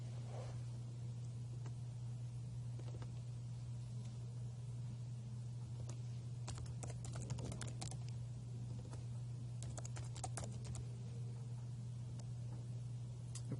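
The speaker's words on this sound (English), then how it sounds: "I actually forgot to pause that there, so you saw me typing it" Faint tapping of keys on a computer keyboard in irregular bursts, over a steady low electrical hum.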